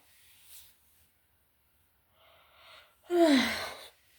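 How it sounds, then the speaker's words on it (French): A woman's yawn, a loud drawn-out breath with a voiced, falling moan near the end, heard alone after a few faint breathy sounds. "Désolée pour ce bâillement désagréable."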